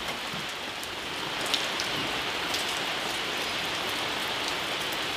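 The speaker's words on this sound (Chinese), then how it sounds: "今天下雨了" Steady rain pours down outside a rural home on a wet day, a dense even hiss with a few scattered drop taps, close and constant, with no talking.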